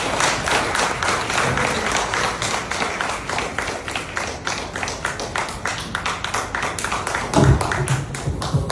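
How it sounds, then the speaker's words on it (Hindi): Audience clapping at an Indian business seminar, a dense steady patter of many hands applauding for several seconds, fairly loud and continuous, with a brief low thump near the end. "तुम ताली बजाओ, तुम लोग क्या देख रहे हो?"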